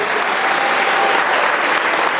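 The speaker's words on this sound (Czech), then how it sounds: "Rovněž velik poděkování a potlesk." Dense, steady applause fills the hall at the Miss Roma 2014 pageant final evening, a loud, continuous wash of clapping from a large audience with no talk over it.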